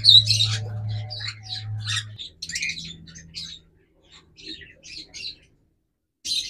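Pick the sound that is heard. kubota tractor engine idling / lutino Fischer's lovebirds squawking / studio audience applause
lutino Fischer's lovebirds squawking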